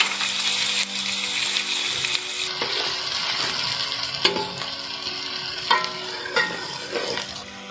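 Chopped onions frying and browning in a pan for beef kofta gravy, a steady close sizzle with occasional stirring scrapes and clinks of a spoon against the pan.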